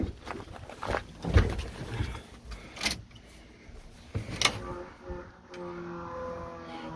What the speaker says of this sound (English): Fuel pump is not happy.